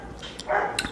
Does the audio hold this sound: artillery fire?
no